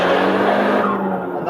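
Audi S3 hatchback accelerating hard under full throttle, a loud, steady engine drone with a rising tone, heard from inside the cabin and fading slightly toward the end.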